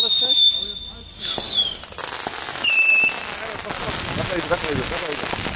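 New Year firecrackers and fireworks explode nearby, with whistling rockets rising and sharp bangs giving way to a sustained crackling burst, while voices talk faintly in the background.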